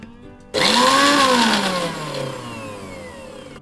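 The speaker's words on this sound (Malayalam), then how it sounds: "ഇത് നമ്മൾ തോരനെല്ലാം റെഡിയാക്കുന്നത് പോലെ മിക്സിക്കകത്ത് വെച്ചുകൊണ്ട് ഒന്ന്" Electric mixer grinder crushing coconut, shallots, garlic and green chilli, starting abruptly with a loud whining motor roar that rises in pitch, then eases slightly as the blades spin on.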